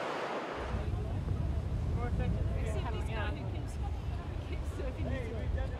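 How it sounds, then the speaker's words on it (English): Strong wind buffeting the microphone with a low roaring rumble on a beach, surf churning underneath, constant and close; faint voices murmur in the background. "Day one's really windy"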